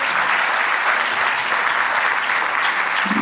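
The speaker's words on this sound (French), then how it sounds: "On peut l'applaudir." A crowd at a French eco-activities awards ceremony gives sustained, even applause, many hands clapping at once without a break.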